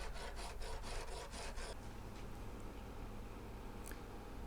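Guitar frets on a Silvertone Espanada H64 being filed level up to the 12th fret, about seven quick rasping strokes in a steady rhythm, close and alone, followed by quiet handling.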